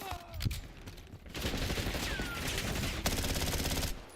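Rapid gunfire in Black Ops 6 multiplayer, sustained bursts of automatic shots rattling close and loud across most of the moment, with brief gaps between volleys.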